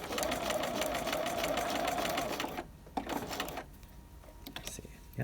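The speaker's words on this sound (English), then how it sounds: "You want a very short stitch as you're going around these corners." A sewing machine stitches in a rapid steady buzz around the corners of a raglan coat cuff for about two and a half seconds, then stops, leaving faint handling clicks and rustles.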